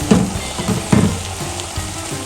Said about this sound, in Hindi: मेथी भी अच्छे से भून गया है